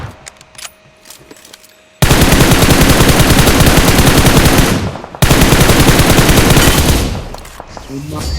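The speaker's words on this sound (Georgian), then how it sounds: "მალე ესროლე ბიჭო" Loud, sustained automatic gunfire in PUBG Mobile, two long rapid bursts of several seconds each, the second tailing off, following a quieter stretch with scattered game sounds.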